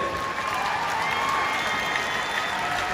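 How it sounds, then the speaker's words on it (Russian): Steady applause from a large crowd, dense and sustained throughout, with a faint cheer mixed in. "Ваши бурные аплодисменты!"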